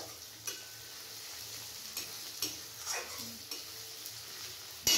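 Chopped onions turning red as they fry in a pan for a chicken dish: a soft, steady sizzle with occasional stirring scrapes and clicks of a utensil against the pan.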